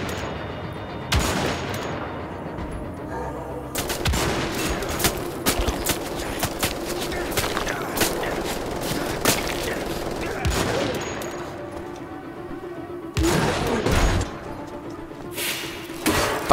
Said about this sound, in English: I'm just gonna shoot him in the head.